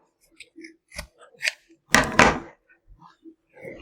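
Scissors trimming doll hair before rooting: a few close, crisp snips, the loudest pair in quick succession near the middle, between small handling clicks and rustles, with no talking.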